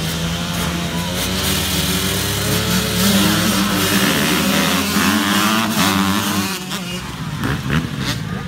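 At an arenacross race, dirt bike engines rev hard and rise in pitch, a loud buzzing drone that climbs and falls with the throttle, several bikes layered close and then easing off near the end.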